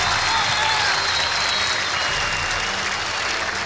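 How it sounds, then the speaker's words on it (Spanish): An audience at a live comedy show claps and cheers steadily for two comedians, a dense, even wash of applause with faint crowd noise throughout. "Un fuerte aplauso para los dos."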